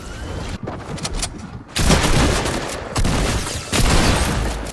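Assault rifle fire from a common-rarity weapon in Fortnite Chapter 2, loud sustained bursts of rapid shots broken by short pauses, with game effects around them.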